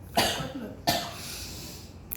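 Two sharp, close coughs a little over half a second apart, the second slightly weaker, followed by quiet room tone and a faint catch at the very end.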